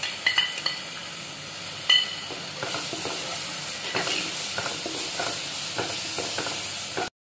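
Spices such as green chili, turmeric, cumin powder and garlic paste fry in a pan for samosa chaat, with a steady faint sizzle and repeated scraping strokes of stirring, alone without talk.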